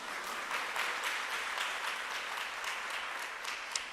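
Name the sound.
audience applause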